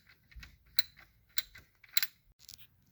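A ratchet wrench works loose a bolt holding the drive belt during a water pump replacement on a 2010 Toyota Corolla, giving an irregular run of close, crisp metallic clicks and ticks.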